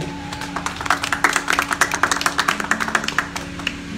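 Scattered, steady clapping from a conference audience at a lecture on modernity in Haiti; a couple dozen sharp claps at a fairly even pace over a low background hum, with no talk.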